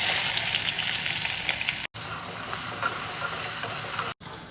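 Chopped onion frying in hot oil, a loud continuous crackling sizzle broken by two brief cuts to silence.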